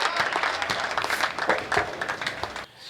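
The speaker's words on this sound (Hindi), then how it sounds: "जोरदार तालियां मोइन शादाब साहब के लिए।" Audience applause for a poet at an Urdu mushaira poetry gathering, a dense burst of many hands clapping that holds steady for nearly three seconds, then cuts off sharply at the end.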